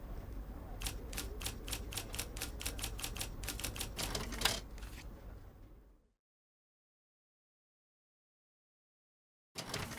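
Typewriter keys clatter in a rapid, even run of close clicks as an article is typed in the Murder in the Alps game, stopping abruptly into silence before a brief burst returns at the end.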